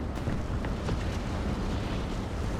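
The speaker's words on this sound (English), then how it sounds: "I've dropped my one bomb" A bomb explosion in the War Thunder game, heard as a dense, loud, sustained rumbling roar with no voices.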